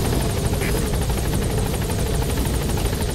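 A support helicopter hovers at a foggy landing zone in Metal Gear Solid V, its rotor chop a loud, steady, close drone that runs unbroken without any voices.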